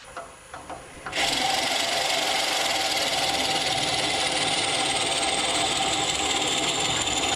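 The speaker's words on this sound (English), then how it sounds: "I'm gonna start hollowing out the bottom by using a Forstner bit." A Forstner bit bores into the wooden bottom of a vase on the lathe, starting after a second of light tapping and then holding as one loud, steady, close-up whirring grind that runs on unbroken.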